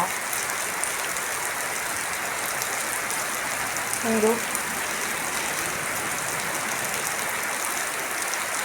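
Steady rain falls in a rural Thai village setting, an even close hiss of drops on surfaces throughout, with a brief voice speaking in the middle.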